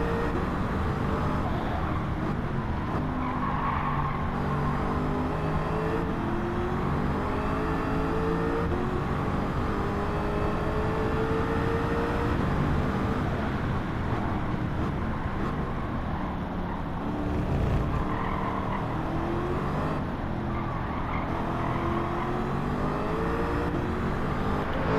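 A Lamborghini Murcielago races around a track in a racing video game, its engine roaring continuously with rising and falling pitch through gear changes and corners, loud and steady for the whole stretch.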